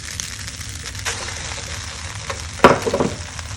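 Fried tofu stir-fried with sauces in a pan over a high flame, with a steady close sizzle and a few scraping stirs near the end.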